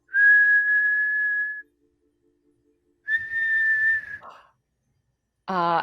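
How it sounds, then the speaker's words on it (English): A person whistles two long steady notes separated by a pause, clear and close, followed at the end by a short burst of speech. "As you whistle, Fairuza"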